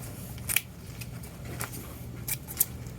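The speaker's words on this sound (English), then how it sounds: "So I'm going to trim my ribbons." Scissors snip through wired ribbon while trimming a festive snowman swag, giving a few quiet, crisp cuts spaced about a second apart, with the sharpest snips near the start and end.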